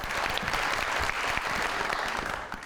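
A studio audience at a televised Eid program bursts into dense, sustained applause that stays loud and steady throughout, with no voices over it.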